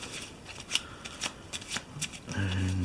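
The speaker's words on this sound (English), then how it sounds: "Let's do a quick shuffle" Deck of board game cards being riffled and shuffled by hand, a quick run of crisp, close flicking bursts lasting a couple of seconds before a low hum sets in.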